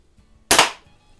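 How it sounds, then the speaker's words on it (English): A single sharp shot from a Crosman Model 130 .22 caliber pellet pistol, loud and close, cracking out of near silence and fading quickly. "that's some good shooting from the 130"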